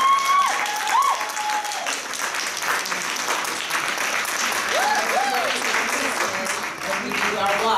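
Church congregation applauding after being asked to give Sister Barbara Warren a hand clap, sustained dense clapping filling the room for several seconds with scattered cheers and voices mixed in.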